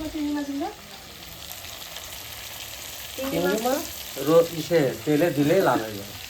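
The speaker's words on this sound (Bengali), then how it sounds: "এবার আমি মাছটা সুন্দর করে নেড়ে চেড়ে নেব লাল মাছ" Red fish being stirred as it fries in a pan, a steady soft sizzle under scraping stirs, while someone talks over much of it.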